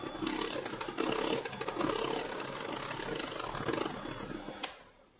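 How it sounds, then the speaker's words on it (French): An electric whisk runs at low speed through cake batter made with sifted flour and baking powder, a continuous whirring buzz that cuts off abruptly near the end. "On peut se permettre d'utiliser le fouet à petite vitesse."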